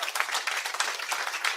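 A studio audience claps throughout a live sports talk show, a dense, steady patter of many hands at a moderate distance with no voices over it.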